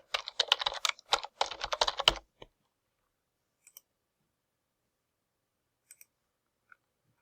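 Rapid typing on a computer keyboard to log in, a dense close burst of clicking keystrokes for about two seconds, then near silence broken by a few isolated clicks.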